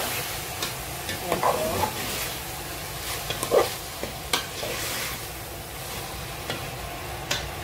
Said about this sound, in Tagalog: I-sauté na naman po natin. I-mix natin siya.